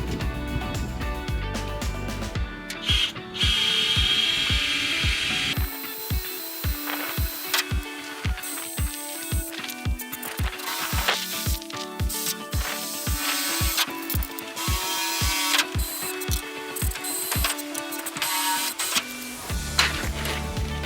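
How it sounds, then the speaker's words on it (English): A drill runs in repeated bursts, buzzing and grinding through material in quick successive spurts while drilling pilot holes in a camper van, close and loud, with brief pauses between holes. "I'm just going to go ahead now and drill out these pilot holes"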